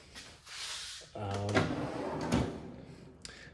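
A cluttered drawer in a tool-side locker is pulled open, giving a short sliding rattle mid-clip, while a person talks over it and around it.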